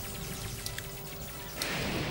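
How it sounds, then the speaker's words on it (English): Rain falls steadily in the Breath of the Wild video game, a faint, even hiss of drops that swells slightly louder near the end. "Alright, now it's raining here."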